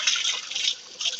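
Cold water from a natural outdoor shower splashes and pours in a bright hissing spray, close and steady, easing briefly before surging again.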